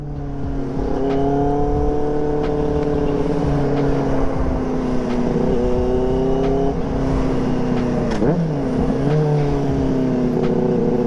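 A Benelli TNT 600i 600cc motorcycle engine revs loud and close, its pitch climbing and dropping through several throttle sweeps with a steady, smooth roar throughout.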